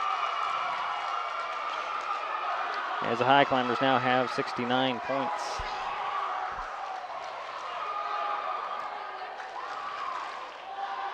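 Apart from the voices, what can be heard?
basketball crowd cheering and applauding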